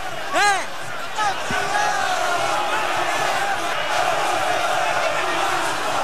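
Vasco football supporters roar and chant in a packed stadium at the 2011 Copa do Brasil final, a loud, continuous crowd wash with a few whistles and a sharp bang early on.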